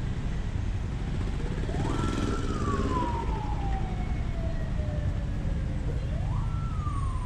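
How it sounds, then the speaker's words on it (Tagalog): An ambulance siren wails through heavy traffic in Nepal, rising and falling in long sweeps over a dense, constant roar of engines and horns. "Yung ambulansya naipit din."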